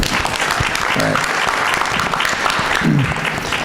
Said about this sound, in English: So could you give us a round of applause?